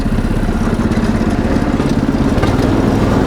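A motorised draisine runs on the narrow-gauge Alapaevsk railway, its engine a loud, steady close chugging drone with rhythmic clatter from the track underneath throughout.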